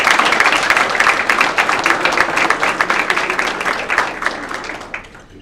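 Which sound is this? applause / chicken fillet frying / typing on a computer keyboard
applause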